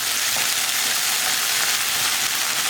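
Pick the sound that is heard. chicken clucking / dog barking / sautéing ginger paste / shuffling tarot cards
sautéing ginger paste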